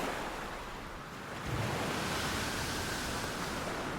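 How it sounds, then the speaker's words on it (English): Sea waves surge in a steady broad wash of surf that swells louder partway through, with wind-like rushing and no voices. "The waves became stronger."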